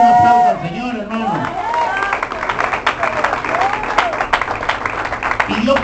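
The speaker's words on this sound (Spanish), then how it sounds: "Denle un aplauso al Señor, hermano." A church congregation claps during a sermon, with a brief sung or spoken voice at the start giving way to scattered, uneven clapping and crowd murmur.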